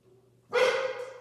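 Dogs bark in one sudden, loud burst that rises out of a quiet room hum and trails off over the next moment, with no one talking.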